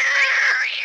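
Cat voice of the new cat brawler Kit in the Brawl Stars video game, a single short drawn-out meow, loud and close, heard alone.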